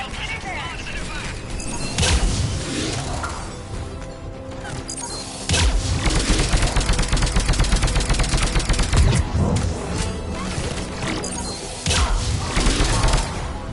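Firefight gunfire in the video game Mass Effect 3, with sustained bursts of shots, crashes and thuds layered over a background score, loud and continuous, with voices talking now and then.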